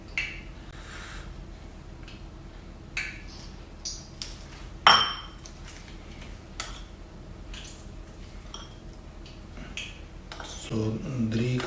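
A half bowl and small spoons clink together as spices such as tandoori and cumin go in for pakoras, with scattered light taps and one sharp ring, quiet and close.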